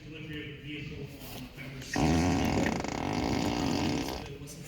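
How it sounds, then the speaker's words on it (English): A Tesla's novelty fart sound plays through the car's speakers when the turn signal is triggered, a loud, buzzy, drawn-out blast lasting about two seconds inside the cabin, with a quieter voice nearby before and after. "Let's see fart on turn signal."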